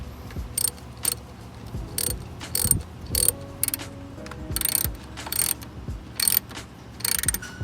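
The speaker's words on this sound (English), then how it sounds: "Now I take the 10mm socket and tighten both connectors." A 10mm socket ratchet tightens the battery terminal connectors on a 4th-gen Toyota 4Runner, giving short bursts of close, crisp clicking separated by pauses, with light metallic handling in between.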